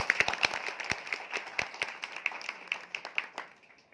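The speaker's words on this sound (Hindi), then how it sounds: "ताली।" An audience in a hall claps, a burst of uneven hand claps that starts brisk and dense, then thins and fades over a few seconds, with no talking.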